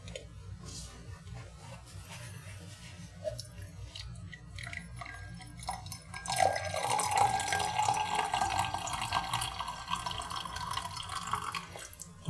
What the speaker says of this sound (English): it's ready to pour.